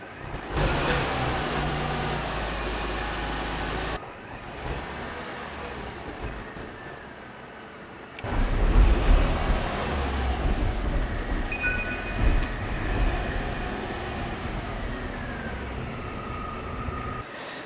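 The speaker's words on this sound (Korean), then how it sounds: "주행을 한번 해보겠습니다" Car driving during a brake-failure safety test, a steady rumbling engine and road noise that drops at about four seconds and swells louder again after eight seconds, with no talk.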